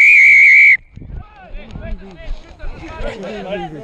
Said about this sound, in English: Whistle is gone, whistle is gone, leave it.